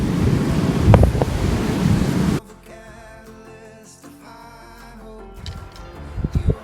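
Snowmelt runoff rushes down the slopes of Mount Whitney as a loud, broadband roar with heavy wind buffeting for the first couple of seconds, then drops to a quieter background of flowing water before rising again near the end.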